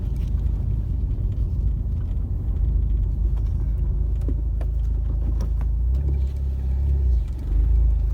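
Car engine droning at steady low rumble from inside the cabin while the driver lifts off the throttle during gear changes, with a few faint crackles near the end.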